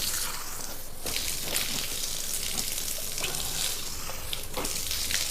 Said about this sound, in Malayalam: നമ്മൾ 3 പ്രാവശ്യം നമ്മുടെ മുഖം കഴുകി എല്ലാ ഭാഗത്തും വെള്ളം എത്തിയിട്ടുണ്ട്